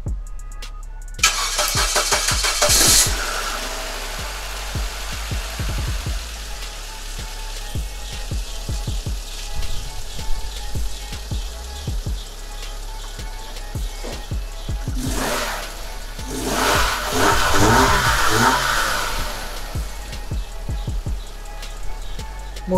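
A car engine cranks and starts after a spark plug cable repair, then idles steadily up close, with a brief rise in revs midway and clicks and rattles over the running engine.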